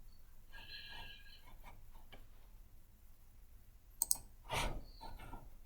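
Computer mouse buttons clicking in a quiet room, a few faint, sparse clicks followed by a sharper pair and a louder click-like burst near the end, with no talking.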